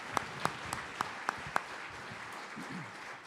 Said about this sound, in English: they deserve a real round of applause